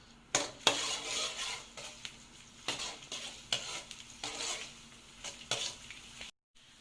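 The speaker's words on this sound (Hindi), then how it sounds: "ये गार्लिक डाल देंगे इसके अंदर, और इसको थोड़ा सा कलर आने तक फ्राई करेंगे" Chopped garlic frying in a pan until light brown, a soft sizzle broken by repeated scraping stirs of a spatula against the pan, ending in a short silence.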